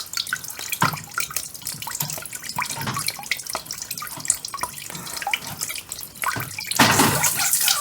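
Water splashes and trickles steadily onto a surface after a cap is taken off, with scattered drips and a heavier gush toward the end, close and fairly loud, with no voices.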